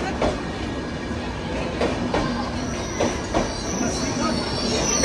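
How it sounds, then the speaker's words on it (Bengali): The Shantiniketan Express rolls into a platform with a steady rumble, wheels clicking over rail joints in regular beats and a faint metallic squeal, loud and continuous throughout. "এই ট্রেন ঢুকলো"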